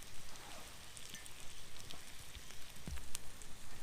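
Rain falls on a woodland shelter during a bushcraft campfire cooking outing, a steady soft patter with a few sharper drips close by, continuous throughout.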